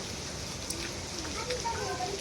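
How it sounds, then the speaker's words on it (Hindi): Steady mountain rain falling in a hill village during the rice harvest season, a dense even hiss with scattered drop taps, constant and enveloping throughout. "अब जैसे थोड़ा इंतज़ार करते हैं बारिश रुकने का"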